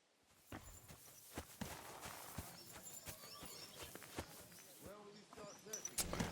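Horse hooves clip-clop at a steady walking rhythm in Kingdom Come: Deliverance II, fairly close and continuous under faint ambient game sounds, with a few louder hoof strikes.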